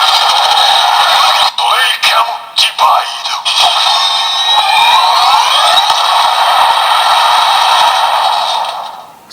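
Electronic sound effect from a DX Breakam Breaker transformation toy (Kamen Rider Zeztz) in blade mode with a capsule inserted: a loud, continuous stream of sweeping siren-like synth tones and electronic voice, with brief clicks near the start.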